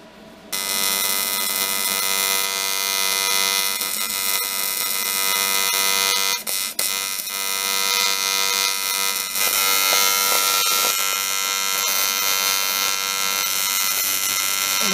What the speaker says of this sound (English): Get a little bit of the start of the welding.